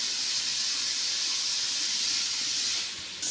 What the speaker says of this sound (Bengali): গাজরটাকে আমি দিয়ে এখন ভালো করে ঘিয়ের মধ্যে ভেজে